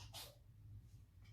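A single quick sneeze, short and breathy, faint against a low background hum indoors, followed by quiet breathing.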